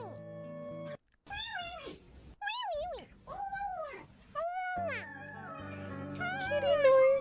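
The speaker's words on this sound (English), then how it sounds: "Kitty noises." A cat meows repeatedly and close by, a run of drawn-out calls that rise and fall in pitch, separated by short pauses and growing louder toward the end.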